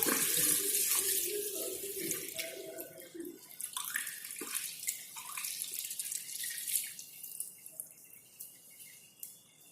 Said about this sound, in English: I just wash this test tubes